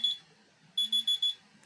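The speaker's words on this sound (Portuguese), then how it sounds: "Os alarmes só tocando," A reminder alarm chimes with a short high beep and then a run of four quick, bright beeps, loud and close against a quiet background.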